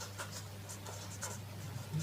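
Pen or marker writing notes during a Hindi history lesson, soft repeated scratching strokes in short bursts over a low steady hum, fairly faint and close.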